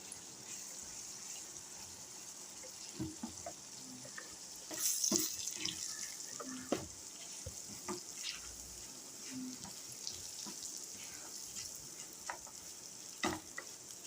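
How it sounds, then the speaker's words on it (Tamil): Pieces of citron fry in oil for a homemade pickle, a soft steady sizzle with scattered pops and a few stirring scrapes, fairly quiet and without speech. "காய் நல்லா எண்ணெயிலே வெந்துட்டுருக்கு."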